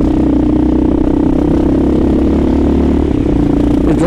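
A loud, steady Kawasaki KLR650 motorcycle engine drone with a deep rumbling exhaust note holds constant, ending with a brief clatter.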